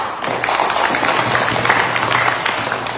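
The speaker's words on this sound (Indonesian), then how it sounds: "Boleh tepukan kepada dia." An audience at an outdoor election campaign rally for a Warisan party candidate in Kemabong claps steadily, a dense, loud wash of applause sustained throughout.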